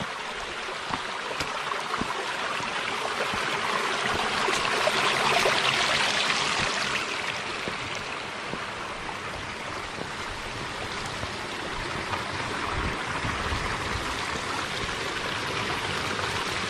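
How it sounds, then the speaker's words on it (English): A creek along the Rock Run Loop in Bernheim Forest flows in a steady, full rush. Its broad hiss and gurgle stays close and constant, with brief splashes and no voices. "you hear all that flow. There's a lot of water flow going on here."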